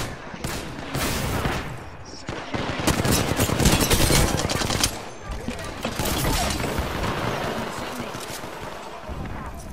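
Rapid video game gunfire rattles almost continuously in loud, dense automatic bursts, with only brief dips between volleys.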